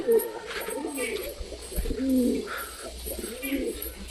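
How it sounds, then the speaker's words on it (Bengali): Domestic pet pigeons coo in low, rolling repeated phrases close by, with a faint background hum and occasional softer bird sounds. "পায়লোমালা পায়রাটা এখানে আছে"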